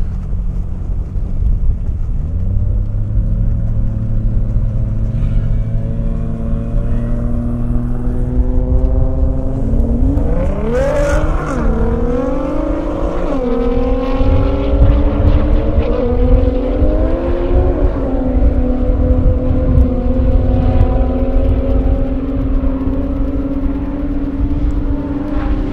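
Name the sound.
time attack race cars at Indy airstrip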